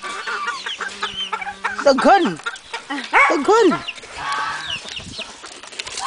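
Chicken clucking amid excited shouting and cheering, with hens fussing nearby in short bursts as several people yell over them.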